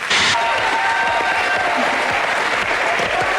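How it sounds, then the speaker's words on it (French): An audience at a televised French awards ceremony, the 7 d'Or, applauds in a loud, sustained wash of clapping, with faint voices and a brief tone mixed in. "On vient d'applaudir les pubs là"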